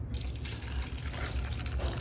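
Water pours steadily for a couple of seconds into a pot for boiling pork leg, a continuous splashing rush with a few drip-like plops.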